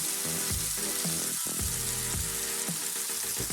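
An egg fries in a pan, giving a continuous close sizzle with a low, humming undertone and soft irregular pulses, with no voices.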